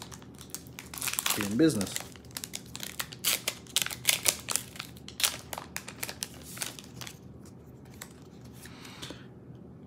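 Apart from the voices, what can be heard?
Pokémon card pack being torn open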